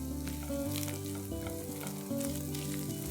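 Chicken keema browns in a pan with a slit green chilli, giving a steady close sizzle and frying crackle under a layer of tonal background music, with no talk.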